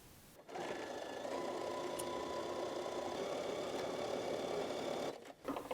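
A sewing machine stitches a fabric hat (tuque) in one continuous steady run of even mechanical whirring, starting and stopping abruptly, with no talking.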